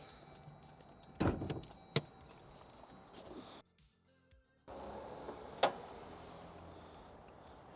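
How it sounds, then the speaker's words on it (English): The hood of a 2024 Dodge Durango SRT is opened, giving a couple of sharp metallic clunks and latch sounds with a brief quiet gap, and no talking. "So let's pop open the hood and let's take a look what's under the hood of this beast."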